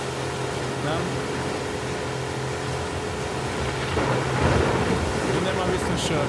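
Stormy weather in The Last of Us Part II, a steady broad rumble of rain and wind with a swelling thunder roll toward the end, continuous and fairly loud throughout.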